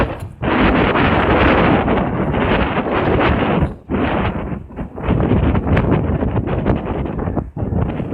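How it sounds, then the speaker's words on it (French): Strong tornado-storm wind roars and buffets straight into a camera microphone in Hull, a loud, continuous rumble with a few brief lulls and no talking. "C'est encore très venteux. Vous pouvez l'entendre. Directement dans la caméra, là."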